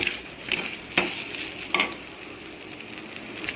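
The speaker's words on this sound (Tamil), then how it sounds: "நல்லா வதக்கிட்டே இருக்கும்." Mutton being sautéed in a pan for Dindigul Thalappakatti biryani, with a steady background sizzle broken by a few sharp scraping stirs at intervals, close and moderately loud.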